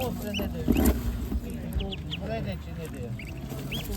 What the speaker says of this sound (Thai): อันนี้คือเป็ดเทศ